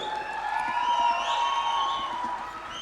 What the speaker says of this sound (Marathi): जोरदार टाळ्या शिट्ट्या झाल्या पाहिजेत